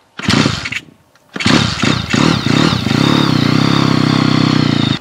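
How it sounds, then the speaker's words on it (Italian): A brand-new 2020 racing motorcycle engine fires up for the first time, a short cough and stall before it catches and settles into a loud, steady idle with a buzzing, slightly uneven rhythm, close by and with no talk. "Questa è la prima volta che la mia moto viene accesa"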